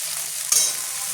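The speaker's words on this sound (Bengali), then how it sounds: "মাছটা পেঁয়াজটাই ভালো করে ভেজে নেব" Dried fish (shutki) and onions frying in a pan give a steady, close hiss with one brief stir-like scrape at about the middle, and no voices.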